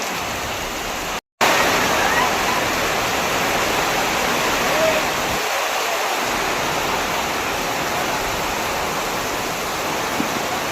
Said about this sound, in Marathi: इतकं मुसळधार पाऊस चालू आहे